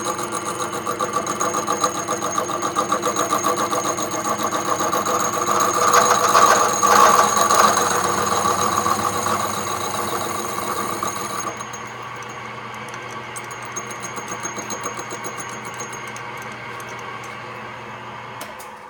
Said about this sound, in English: Advance the hole saw.